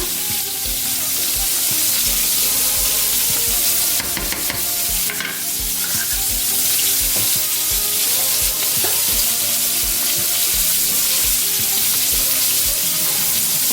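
Butter sizzling in a hot pan while being stirred, a loud continuous frying hiss with scraping and clinking from the spoon throughout, no voices.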